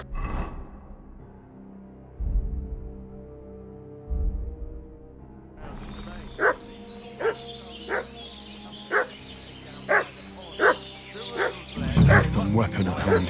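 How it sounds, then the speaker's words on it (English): A dog barks repeatedly in Kingdom Come: Deliverance II, a steady series of evenly spaced barks after a quiet stretch, mid-distance, with game ambience and other sounds swelling toward the end. "What's that dog making such a fuss about?"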